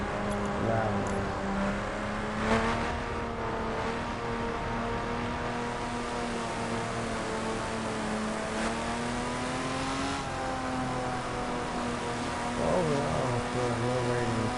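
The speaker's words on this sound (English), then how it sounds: "This thing is so loud. It's amazing how loud this car is." A 2011 BMW Z4 Street Edition rated at 412 hp holds a steady, droning engine note with gentle pitch swells, heard from inside at moderate level, with a couple of faint knocks.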